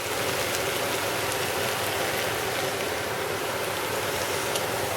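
Water splashes into a hot pan of sautéing potatoes with meat, giving a steady, loud hiss and crackle of sizzling that holds evenly throughout with no talk.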